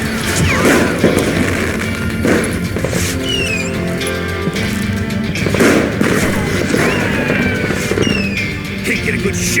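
Gunfire in the Western shooter Call of Juarez, a dense loud barrage of shots and impacts over a constant game soundscape, with clashing noise and crashes throughout.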